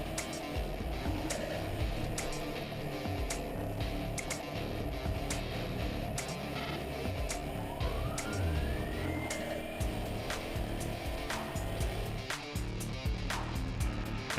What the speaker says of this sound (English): Perrin starts in 10th in the elite race, and we're riding on board with Carole for the start of the competition here